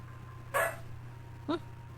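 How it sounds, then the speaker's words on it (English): Two short eerie dog yelps or whimpering barks in the horror game Home Safety Hotline, spaced about a second apart over a low steady electronic hum. "Spooky dog noises"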